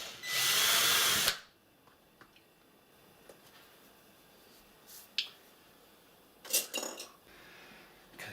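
A power drill whirs loudly for just over a second while enlarging holes in an HP laptop hinge. Faint clicks and small metallic clinks of handling follow, with a few brief rustling bursts.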